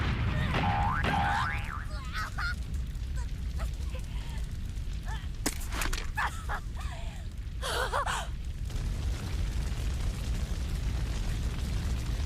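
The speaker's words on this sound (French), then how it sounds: "ça fait une explosion comme ça, énorme" A huge explosion in a One Piece anime episode roars as a dense, sustained rumbling wash that fills the clip, with breathy gasps, whooshes and sharp effects layered over the top.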